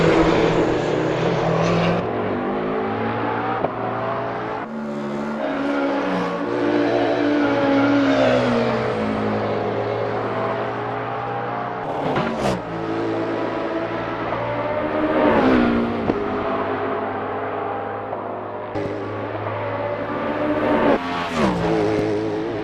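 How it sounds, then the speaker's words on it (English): Race car engines drone and rev around the Road America circuit in Assetto Corsa, several cars with Le Mans Daytona hybrid prototypes among them, steady tonal engine whine shifting pitch as cars pass, with sharp gear-change blips throughout. "It's a lovely day for racing here at Road America as we watch these drivers warm up and get ready for the race."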